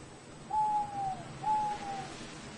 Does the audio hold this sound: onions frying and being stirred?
no